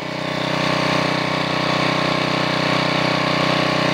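A Generac 750 watt portable generator with a hot muffler runs steadily, its small engine giving a loud, even buzzing drone with a fast pulsing throb and no breaks.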